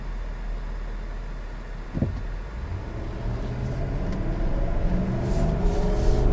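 A 2021 Nissan Armada Platinum with its 5.6 liter V8 accelerating from inside the cabin, a low steady engine rumble that builds gradually under road noise.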